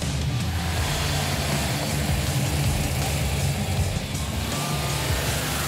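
A strong Chevrolet 409 engine idles in a lightweight drag car, a low, steady rumble with slight lope that holds evenly throughout and plays alone with no talking.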